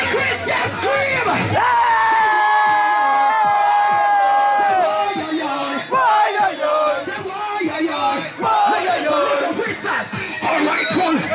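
A large crusade crowd screams and cheers at a religious gathering, a loud sustained roar of yells and whoops rising after a brief opening, with voices surging and dipping throughout.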